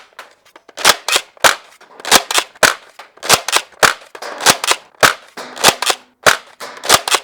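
An X-Shot Insanity Berzerko blaster slam fires Dart Zone Sure Shot darts in a rapid series of sharp, loud, close snaps, about fourteen shots in an uneven steady rhythm.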